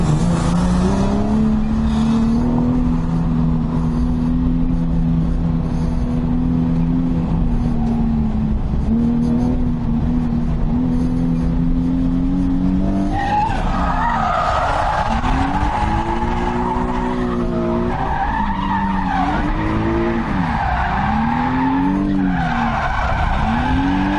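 A drift car on a competition run in Texas, engine droning steadily then revving and wavering as the tires squeal continuously, loud and close throughout with no pauses.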